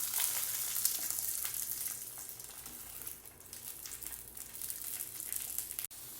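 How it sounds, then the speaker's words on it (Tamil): Sardines marinated in masala fry in foil without direct oil, giving a steady, close crackling sizzle with bright hissy texture that barely dips midway and ends in a short scrape. "பாருங்கள், நமக்கு நல்லா ஃப்ரை ஆக ஆரம்பிச்சிருச்சு"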